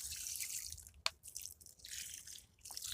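Collected rainwater dripping and trickling in a garden setting, a steady soft wash of water with a couple of sharper drip splashes, fairly quiet and close.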